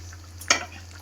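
Ghugni spice mix with two green chillies being stirred in a frying pan: a low steady sizzle under a constant hum, broken by one short spoon scrape midway.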